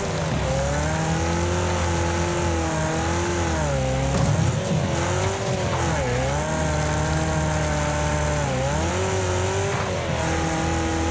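Several racing car engines in the video game Wreckfest drone and rev together, pitches rising and dipping through gear changes, loud and continuous with occasional bumps and scrapes, no talk.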